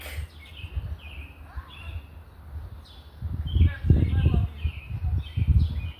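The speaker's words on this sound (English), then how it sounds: "The birds are loud right now, right?" Birds chirp and sing outdoors in repeated short calls over a background of low rumbling noise, some louder bursts toward the end, fairly close and clear.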